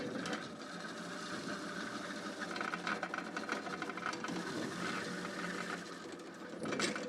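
A professional kitchen vegetable cutting machine slices turnip and celery with a steady mechanical whirring and a dense rapid chatter that runs throughout, swelling slightly near the end.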